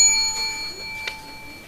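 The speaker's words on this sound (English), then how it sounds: "It's the little bell on a spur, jingling, jangling all day" Small jingle bob bell on a cowboy's spur gives a few light, bright metallic rings and one sharp ding, faint and set against quiet background hum.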